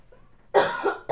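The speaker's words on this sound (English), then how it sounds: "if you hear me coughing, I do apologize" A person coughing close by: one harsh cough followed by a smaller one, and another starting at the very end, after a quiet moment.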